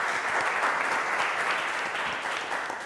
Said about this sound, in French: On applaudit pour eux, s'il vous plaît.